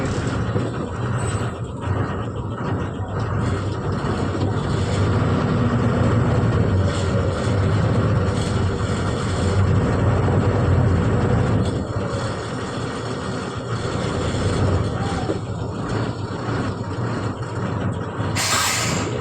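A loaded lorry cruises along a road at about 45 to 50, its engine droning steadily with road and wind noise throughout, a continuous loud rumble heard close from inside the cab and free of talk.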